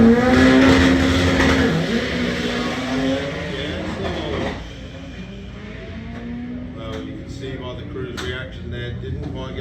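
A front-wheel-drive Ford Focus drag car accelerates hard down the Hal-Far Raceway strip, its loud engine note rising and then fading into the distance as a commentator talks over it.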